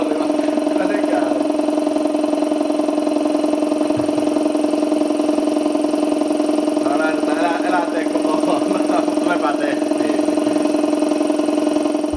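A turbocharged BMW M50/M52 engine runs steadily with a constant droning hum throughout, while someone talks over it at times.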